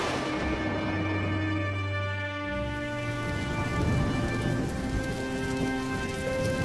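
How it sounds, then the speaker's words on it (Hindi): Heavy rain pours steadily in cold weather, a dense continuous hiss of drops drumming on surfaces with no voices, joined by a low rumbling layer early on that fades partway through. "इतनी ठंड में यह जोरदार बारिश भी होने लगी।"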